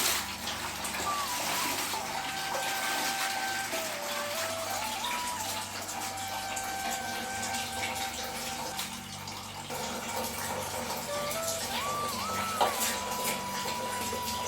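Kanda bhaji greens being washed in a vessel of water, steady splashing and swishing water running throughout, close and continuous with faint background noise.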